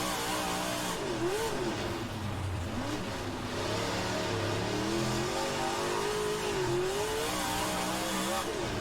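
Stock cars from the Dirtworks Designs beta race in the rFactor 2 video game, several engines roaring and revving continuously with pitch sweeping up and down, loud and steady, while a commentator talks over the noise.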